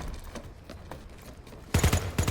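Gunfire in the video game Planetside 2, where quiet background rumble gives way to a loud burst of rapid shots from a base's high ground, with a second short volley right after.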